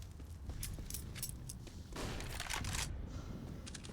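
AK-47 fire in the video game CS:GO crackles in rapid repeated bursts at a low, distant level, forming a dense clattering volley throughout.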